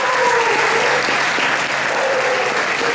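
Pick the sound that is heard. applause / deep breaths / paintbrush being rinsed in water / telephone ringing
applause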